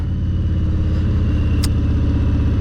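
A Harley-Davidson motorcycle engine rumbles steadily while riding, a deep loud continuous throb close by, with a brief bright click partway through.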